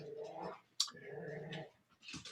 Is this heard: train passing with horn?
no